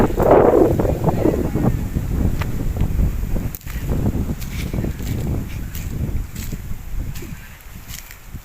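Strong gusts of wind batter the microphone at Lumot Lake in Cavinti, a continuous low roar with a brief lull in the middle.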